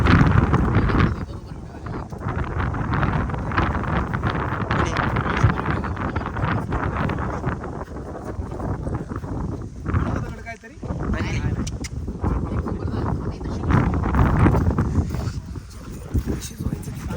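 Strong wind sweeps across a tent campsite at Varandha Ghat, roaring and buffeting loudly and continuously, with gusts swelling and easing, as a voice speaks over it.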